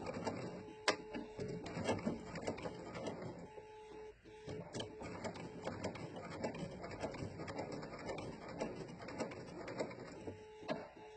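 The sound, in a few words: sewing machine stitching and backstitching a bowtie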